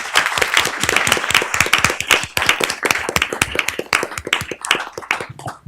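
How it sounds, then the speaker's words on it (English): Audience applause for a panel at a discussion on policing, loud and close with distinct individual hand claps in a rapid uneven patter that gradually thins and stops near the end. "Can we get a round of applause for our panel?"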